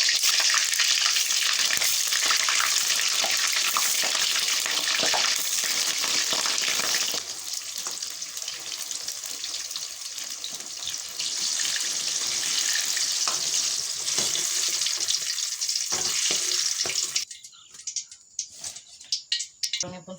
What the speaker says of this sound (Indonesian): lanjut goreng terongnya ya